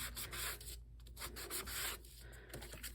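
A fake plastic credit card being sanded by hand, close rhythmic scratchy rubbing strokes in quick back-and-forth passes with brief pauses between them.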